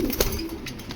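A racing pigeon gives a low cooing call, close and brief, over a background of faint rustling and a noisy roomy hiss, with no one talking.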